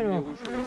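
Honeybees from an aggressive colony buzz at an apiary hive, a dense wavering drone close to the listener, heard alone for under a second.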